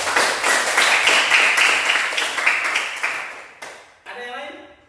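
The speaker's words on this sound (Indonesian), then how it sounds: "Tepuk tangan." A classroom of students claps their hands together in a dense burst of applause that starts loud and thins out into a few scattered claps. Speech follows at the very end.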